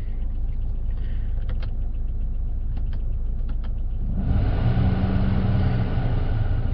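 A 2012 Buick Verano's engine idles steadily, a constant low hum; a few faint clicks come early, then the idle grows louder and fuller partway through, continuing alone without talk.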